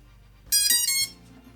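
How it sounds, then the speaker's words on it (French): Three-tone startup beeps from the ESCs of a freshly built FPV drone powered through a smoke stopper, a bright electronic chime lasting about half a second, loud and close over a low steady hum. "Les ESC ont démarré, il y a eu les 3 bips."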